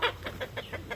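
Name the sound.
roosters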